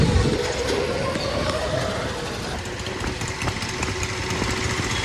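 A motorcycle engine idles nearby with a steady, even rumble that holds constant throughout, and no speech.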